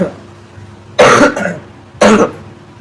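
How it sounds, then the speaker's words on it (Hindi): Two sharp coughs, about a second apart, close to the microphone, with a quiet room tone between them. "खांसी नहीं छोड़ेगी।"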